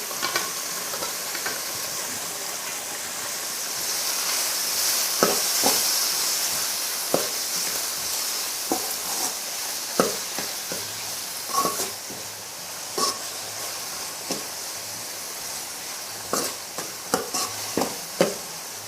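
Tomatoes with a little salt sauté in a pan with a constant sizzle, punctuated by repeated sharp scraping and stirring clatters of a utensil against the pan.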